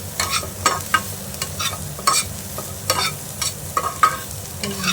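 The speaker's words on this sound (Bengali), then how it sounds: "একটু নাড়িয়ে চাড়িয়ে নিয়ে মিশিয়ে নিয়ে" A spatula stirs and mixes mustard flower paste with prawns in a frying pan, scraping in quick repeated strokes over a steady low sizzle, close by, with no talking.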